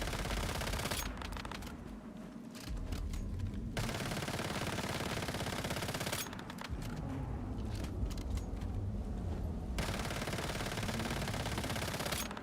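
SMG fire in the survival shooter Once Human comes as two long rapid bursts of rattling shots over a steady rumble, loud and close, separated by short pauses, with no talk.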